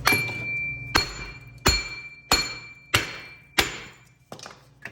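A hammer taps an axle through a Ford Edge rear hub bearing: six sharp metallic clinks at an even, unhurried pace, each ringing briefly before the next, close and clear with no talking.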